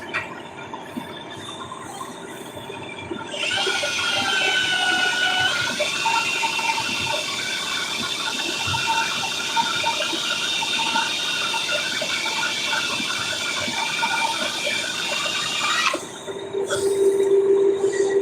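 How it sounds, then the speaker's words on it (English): An air compressor nozzle blows off a small disc in a woodturning shop, giving a loud, steady rush of air that runs for about twelve seconds before cutting off sharply. "I'd rather just blow it off with the compressor"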